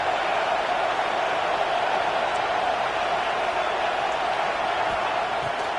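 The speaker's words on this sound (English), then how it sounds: "This crowd bringing the energy and noise early." A large stadium crowd in the video game College Football 2K26 roars continuously, a broad steady wash of distant cheering and noise that never lets up.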